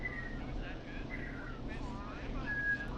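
A killer whistles a wavering tune in the horror video game Killer Frequency, the thin melodic notes drifting over a low droning background.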